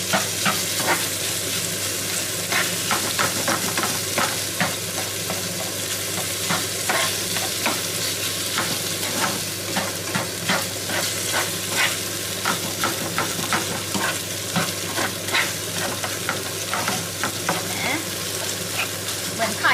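Vegan scrambled tofu is stir-fried in a pan, with a sustained sizzle broken by constant rhythmic spatula scrapes and stirring clicks, close and fairly loud throughout.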